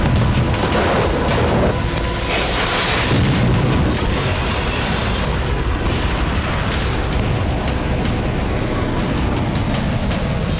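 Chinese missile blasts over the South China Sea, a dense continuous roar of booming explosions and rumbling detonations, loud and unbroken from start to finish.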